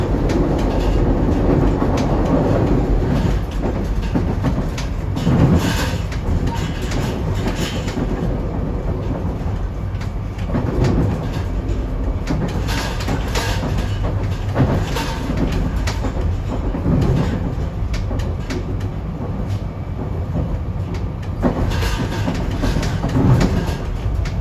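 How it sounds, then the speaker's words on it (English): A SEPTA regional rail train rolling from Philadelphia toward Doylestown, a loud, steady close rumble inside the car with irregular heavy thumps and clacks as the wheels cross track switches. "it and the Fox Chase line will break off here to the right as we thump over these switches"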